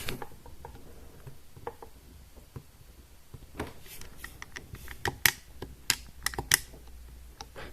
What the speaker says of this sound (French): Le bruit du start vient du haut-parleur, clairement.